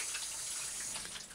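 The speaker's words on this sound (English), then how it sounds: "I'm gonna wash my hands." Hands being washed under a running kitchen tap, a steady close splashing rush of water that continues without a break.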